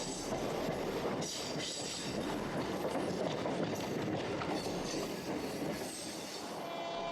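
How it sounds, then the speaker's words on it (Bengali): A local train on the Howrah–Barddhaman chord line rumbles steadily through a crossover, its wheels clattering and squealing as it crosses between tracks, loud and continuous throughout. "লোকাল ট্রেনের ক্রস ওভার লোকাল ট্রেনের এই লাইন চেঞ্জ"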